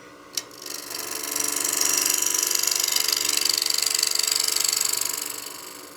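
A bowl gouge roughs out a wooden coin box blank spinning on a lathe: a sharp tap, then a continuous rasping, whirring cut that swells, holds steady and tapers away over several seconds.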